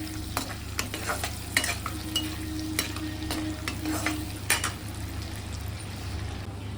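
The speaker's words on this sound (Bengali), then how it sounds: "আস্তে আস্তে রসুন কুচিটা ভাজা হবে" Chopped garlic frying gently in a pan over a low gas flame, a steady close sizzle broken by repeated sharp ticks and stirring scrapes, no voices.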